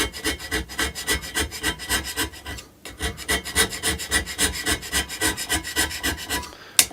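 Steady, rhythmic rasping strokes of a hand scraper on the cast-iron top surface of a Myford ML7 lathe, each short push repeating closely and evenly at a consistent close, moderate loudness with no voices.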